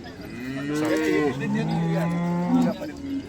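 A cow at the Sangola cattle market moos loudly in two long, drawn-out calls close by, with a brief break between them.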